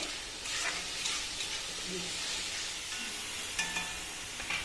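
Spices and fish masala fry in hot oil with a steady sizzle, broken now and then by scraping stirs in the pan.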